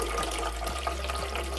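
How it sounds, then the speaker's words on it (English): Cold coffee is poured steadily into a reverse osmosis water purifier, giving a continuous splashing, trickling pour up close, with no talk over it. "So I have some coffee, cold coffee, I think. Yeah, it's cold now. And we'll pour it inside here."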